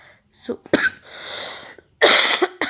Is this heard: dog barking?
no